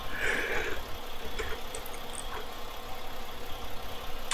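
A Mack Anthem truck engine idles in American Truck Simulator, a steady, low rumble at moderate volume with a faint higher hiss over it and no talking.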